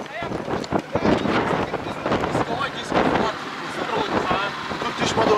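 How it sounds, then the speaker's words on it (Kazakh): Strong wind buffets the microphone in loud, gusty roars and rumbles that rise and fall throughout. "Жел болып тұр екен. Сұмдық."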